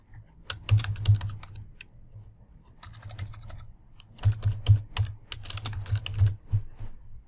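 Computer keyboard keys clatter in two quick bursts of typing separated by a short pause, close and crisp with no voices.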